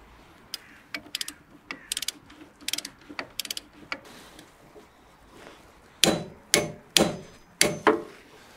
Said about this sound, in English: I'm now going to fit the brake calipers, and there's two bolts to hold this on, and they need tightening down to 85 Newton meters